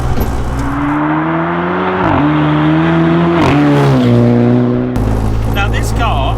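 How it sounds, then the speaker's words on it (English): A 450 hp rear-wheel-drive Mini with a DSG gearbox warms up, its engine idling and revving steadily up close, the low hum rising and falling in pitch, with voices talking over it. "Now this car, so we're just warming up at the moment."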